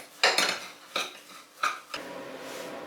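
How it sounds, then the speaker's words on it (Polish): A utensil stirs a thick coconut mixture for coconut macaroons in a pot, with four distinct scraping clinks at uneven intervals followed by softer, continuous stirring, close and clear without speech. "I mieszamy całość, aż się połączy na gładką masę."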